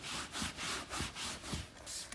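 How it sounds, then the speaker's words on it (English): Leather colour product is rubbed by hand over a leather couch surface in steady back-and-forth strokes, about eight rhythmic swishes, close and soft with no talk. "So just keep rubbing over the surface, applying the product"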